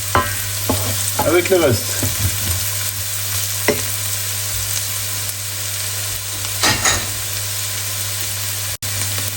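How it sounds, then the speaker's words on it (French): Garlic sautéing and being stirred in a pan for a French-style creamy chicken dish: a steady, close sizzle with scraping utensil strokes at the start and again near the end, and no talking. "Ensuite on y ajoute notre ail. La même chose, on le refait, on fait revenir un peu"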